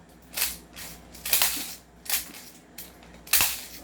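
An M4A1 airsoft rifle firing 0.20 g BBs through a chronograph: five single shots spaced roughly evenly, each a crisp, close snap with a short tail, and no talking.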